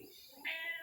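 A house cat gives a short, agitated meow, faint and close, on its own.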